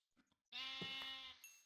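A single sheep bleat from the video game Minecraft, loud and close, a wavering nasal tone lasting about a second after a few faint clicks.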